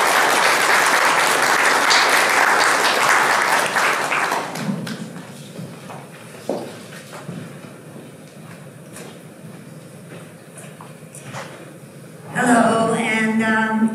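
Audience applause welcoming a speaker onto the stage at a community showcase for queer elders, a loud, dense clapping that fills the room for several seconds, then fades into scattered room noise and a few thumps before a voice begins speaking.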